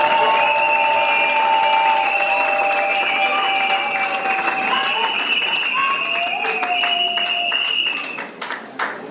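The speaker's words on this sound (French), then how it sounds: "Au nom de l'amour, je te prie d'acclamer très fort encore." Wedding guests applaud in a steady, loud wash of clapping that carries on for several seconds, overlaid with sustained tones and voices, before thinning out at the end.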